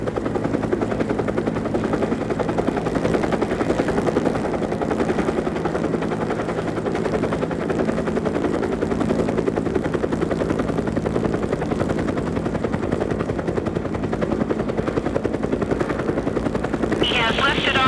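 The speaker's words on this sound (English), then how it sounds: "He has lifted off. The accompanying helicopter right next to him" A helicopter lifting off, its steady rotor roar filling the scene loud and continuous, with a low chopping drone that holds throughout and a brighter whine near the end.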